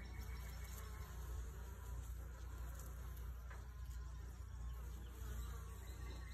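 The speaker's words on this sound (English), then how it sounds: "They're really bringing in the pollen on this hive." Honeybees buzz around a beehive entrance as they bring in pollen, a dense, continuous droning hum close by with no talk.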